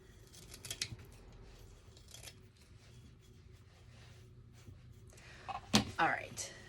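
Scissors snip and trim moss on a flocked egg topiary in a few quick close cuts, with a sharper louder burst of snipping and rustling near the end.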